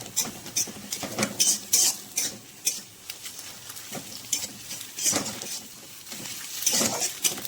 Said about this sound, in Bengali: ডিম দুটোকে আর পেঁয়াজটাকে ভালো করে ভেজে নেবো